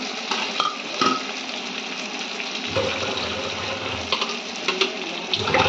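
Chili water poured into spices frying in a pan, a steady close hiss and splash of liquid meeting hot oil with a few stirring clinks, continuous throughout.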